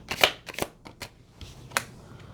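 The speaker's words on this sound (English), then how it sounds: "Let's take 3 cards." Tarot cards being shuffled and drawn by hand, a quiet sequence of soft riffles, slaps and slides at close range, several brief card snaps spread over a couple of seconds with no talk.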